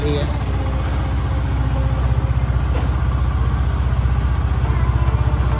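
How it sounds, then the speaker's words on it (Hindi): A Yamaha R15 V4 motorcycle engine runs during service testing in a workshop, a close, steady idle whose rapid pulsing firing rhythm grows more pronounced partway through. "इंजन की टेस्टिंग चल रही है।"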